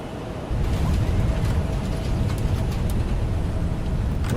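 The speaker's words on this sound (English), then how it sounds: "Reversers are out." Thrust reversers deploy on landing of a Boeing 777F in the X-Plane 12 flight simulator, a heavy broadband roar that swells abruptly and holds as a loud, even rumble.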